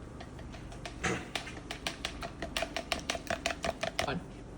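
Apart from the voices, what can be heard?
whisking eggs in a bowl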